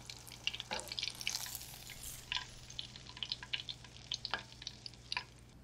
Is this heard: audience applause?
no